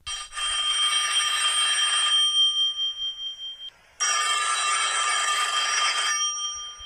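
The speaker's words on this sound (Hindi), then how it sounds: "अचानक उसका फोन बजा।" A phone rings loudly with a bright electronic ringtone in two long bursts separated by a short silence.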